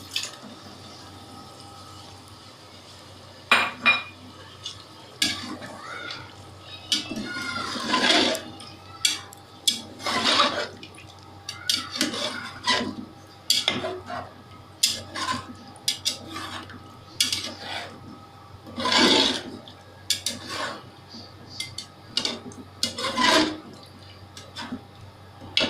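About 300 grams of yogurt being added and stirred into a chicken qorma pot, with irregular metallic clinks and scrapes of a spoon against the pot, wet stirring sounds between them, close and moderately loud.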